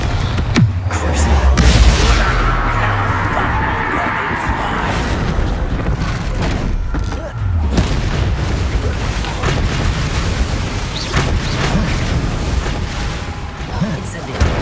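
Blasting and curse spells fire off in rapid succession in a Hogwarts Legacy duel, with loud booms, crackling bursts and explosive impacts filling a dense, continuous wall of combat noise while a voice shouts spell names over it.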